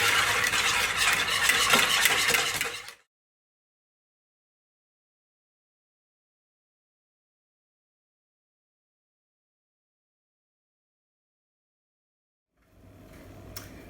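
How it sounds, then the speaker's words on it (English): Sugar mixture with vanilla being whisked for a gluten-free cake: a close, busy rapid whisking for about three seconds, then long silence, with faint mixing noise returning at the very end. "I'm going to whisk this together until the sugar is dissolved"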